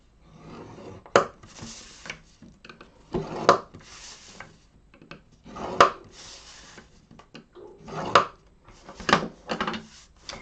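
Cardstock being scored at 1 1/2 inches around a box lid on a scoreboard: five sharp, separate scraping strokes spaced about two seconds apart, close and fairly quiet, with no talking.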